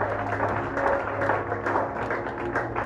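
A church congregation applauding and cheering together, a dense continuous patter of clapping with voices mixed in, steady and moderately loud.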